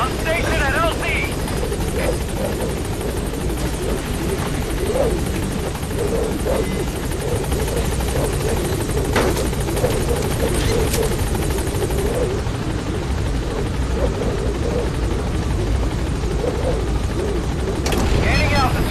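Pequod, a transport helicopter in Metal Gear Solid 5: The Phantom Pain, arriving at a landing zone: a steady, loud rotor drone fills the whole stretch with occasional mechanical clanks and a voice speaking over it.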